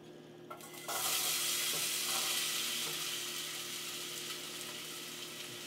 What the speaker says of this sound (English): Throw in your diced potatoes into a pot, pan with some oil in it.